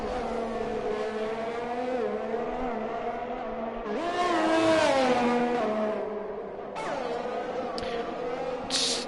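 Race car on a flying lap at Baku in a racing video game, the engine droning loudly and steadily with rising revs, a sharp upshift and gear changes, heard alone without speech.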